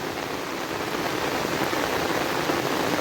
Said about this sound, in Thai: ฝนบยุดเลยตอนนี้นะ